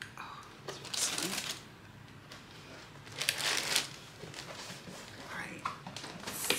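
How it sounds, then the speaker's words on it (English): Paper rustles and crinkles in short bursts while a box of Lebron XX shoes is opened, quiet and close, with several brief crackling swells separated by softer pauses. "Oh, it's rustling."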